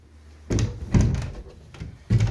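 A sliding bedroom door with a missing peg is pushed open and shut, giving several heavy, close thuds and bumps with brief rattling between them.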